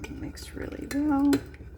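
Pita pieces tossed with oil and salt in a bowl, a few quick scraping clinks of a utensil against the bowl, close and fairly loud, with a brief tonal ring near the end and faint talk underneath.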